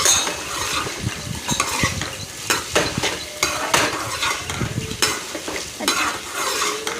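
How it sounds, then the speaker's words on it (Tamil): Onions and garlic sauté in a pan for a tomato-free spicy chutney, with continuous close sizzling broken by frequent scrapes and clanks of a spoon stirring against the pan, and no speech. "போட்டு எல்லாத்தையும் சேர்த்து வதக்கிக்கலாங்க"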